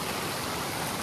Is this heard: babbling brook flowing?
yes